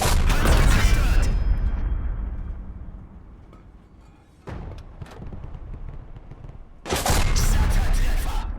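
Tank cannon fire and explosions in the WWII tank game Call To Arms Panzer Elite: loud booming blasts at the start and end with a rumbling, decaying battle din and sharp impacts between.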